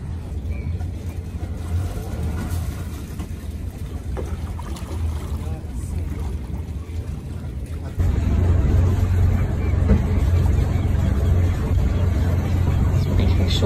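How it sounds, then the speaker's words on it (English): Sailboat engines thrusting away from a mooring, a steady low motor drone that steps up louder partway through as thrust increases, with wind and water noise around it. "Always check thrust on our engines before we leave."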